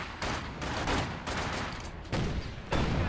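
Artillery bombardment in Company of Heroes 2, a dense rumbling barrage of booming impacts arriving in several successive heavy waves, loud and continuous with no voices.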